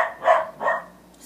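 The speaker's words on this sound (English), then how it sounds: "Excuse the dogs." Indoor dogs bark twice in quick succession, fairly close and moderately loud, then fall quiet.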